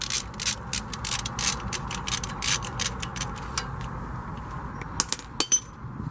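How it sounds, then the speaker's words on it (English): Ratchet with a 10 mm socket and extension working a bolt loose during brake rotor replacement on a 2003 Chevrolet 2500HD, rapid bursts of close clicking ratchet strokes, then a pause and a few separate clicks. "what you want is a 10 and an extension and a ratchet that helps you get this off"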